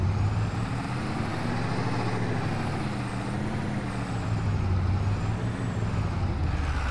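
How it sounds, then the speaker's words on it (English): A heavy truck engine labours in a farming video game with stubble tillage gear, a steady low rumble droning on unbroken for the whole stretch, with no voices over it. "This truck is really struggling to do nothing."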